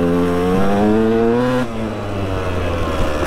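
Motorcycle engine drones steadily while riding, loud and close, with pitch rising then dropping as the throttle changes, no voices.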